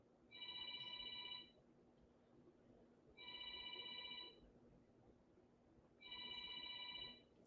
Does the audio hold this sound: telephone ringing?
yes